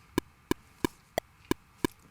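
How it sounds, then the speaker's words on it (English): Metronome click track sounding six evenly spaced, crisp woody clicks at a steady tempo of about three per second, close and isolated over a quiet background. "basically, it's a metronome that helps keep you in time"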